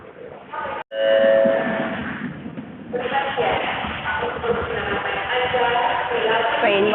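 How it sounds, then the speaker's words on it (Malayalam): A metro train pulls into a station in Kuala Lumpur, a rising rumble and screech of wheels and brakes building after a short gap, with people talking nearby over the noise. "ട്രെയിൻ വന്നു."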